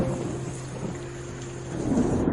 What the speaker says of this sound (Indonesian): Hujan deras di luar, saya antar kamu.